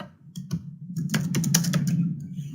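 Rapid, uneven keystrokes on a computer keyboard come through during an HTML lesson, a dense run of close clicks over a steady low room hum.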